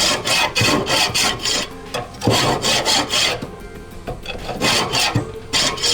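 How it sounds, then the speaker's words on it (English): Grill jacks scrape across the grates of a Yoder YS640S pellet grill, harsh rhythmic rasping strokes back and forth, loud and close, repeating steadily without pause. "I'm going to clean all these grill grates with the old grill jacks"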